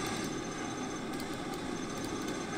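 Raptor jet aircraft flying in C&C Generals: a steady roaring engine drone, moderately loud and continuous for a couple of seconds with no speech.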